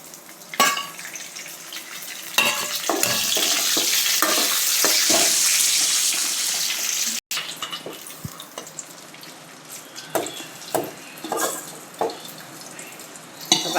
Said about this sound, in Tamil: முந்திரி பருப்பு நல்லா வதங்கி வந்த வாட்டி உலர் திராட்சை போட்டு வதக்கி